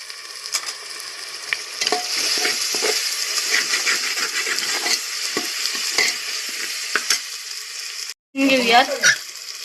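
Tomato, green chili, cumin and spices fry in a pan with a continuous hissing sizzle, broken by irregular scraping stirs and a brief silence before a final burst of sizzling.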